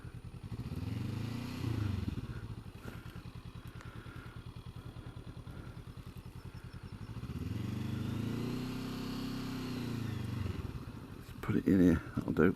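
A motorcycle engine idles and revs near the mic while the bike is turned around, a steady low throb swelling twice, with a burst of clatter at the end.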